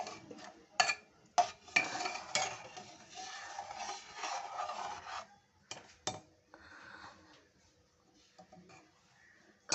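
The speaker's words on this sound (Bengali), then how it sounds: "আর এবার আমি এটা একটু নাড়িয়ে দিচ্ছি" Scraping and rubbing of a spoon stirring food with water inside a pressure cooker, in uneven bursts with metallic clinks and quiet pauses between.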